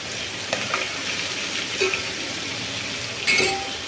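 Chicken pieces fry in hot oil for chicken biryani, giving a steady, close sizzle with a few soft clinks of a utensil against the pan and no talking.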